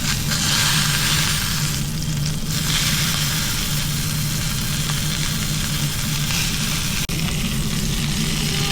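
Garlic frying in a pan alongside seared meat, a steady broadband sizzle that stays loud and close throughout with a low steady hum underneath, cooked inside a van.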